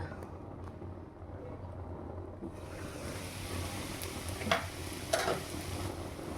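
Chicken fried rice is stirred in a pan, a low continuous sizzle with a few scraping clatters of a spatula against the metal, heard close and fairly quiet.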